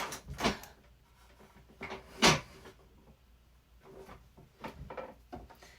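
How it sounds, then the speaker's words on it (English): A chair rubbing against another chair indoors, giving a few irregular scraping and knocking creaks, one louder rub in the middle, fairly close with no speech. "This thing keeps rubbing up against that other chair."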